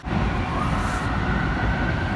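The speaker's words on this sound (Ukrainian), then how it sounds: "Якраз потяг пішов і відголоски поліцейської машини." A train pulls away beside an embankment in Prague with a steady, loud rumbling roar. A faint, high, sustained tone in the background may be a distant police siren echoing.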